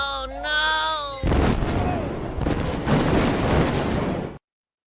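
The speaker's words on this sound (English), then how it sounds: "I love the explosion at the end." An explosion from a played video bursts in as a loud, rumbling boom after a short stretch of music, then rolls on in further heavy blasts and crackling debris before cutting off abruptly.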